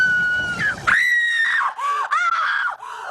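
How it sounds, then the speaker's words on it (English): A woman's long, loud, sustained screams from the making of Indiana Jones and the Temple of Doom, rising and wavering in pitch across several breaths, close and piercing, with no other voices. "And then she screams"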